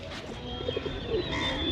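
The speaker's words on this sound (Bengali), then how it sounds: "আর এখানে অনেকগুলো পায়রা।" Pigeons cooing at Mirik Lake in the early morning, a few soft low coos in the middle of the brief stretch over a faint outdoor background.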